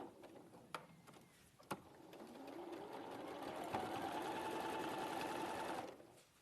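A sewing machine stitches fabric scraps, with a couple of sharp clicks and then a steady, quiet mechanical whir that runs for several seconds before stopping.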